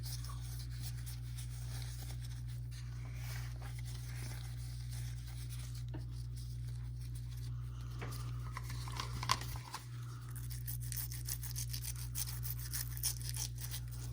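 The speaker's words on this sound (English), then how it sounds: "I will just give it a rub-a-dub-dub with the liquid detergent" Gears of a Singer 431G sewing machine are scrubbed with a brush and liquid detergent, making continuous fine scratchy rubbing over a steady low hum, with a brief knock partway through.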